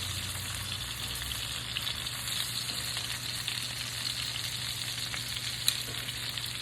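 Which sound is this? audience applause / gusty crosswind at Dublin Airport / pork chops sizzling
pork chops sizzling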